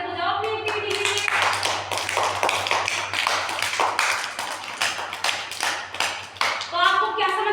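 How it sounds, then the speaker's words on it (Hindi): Children in a classroom clap their hands together in quick rhythmic bursts, loud and close, with a voice heard at the start and again near the end. "तालियां बजाओ अपनी एक्टिविटी के लिए।"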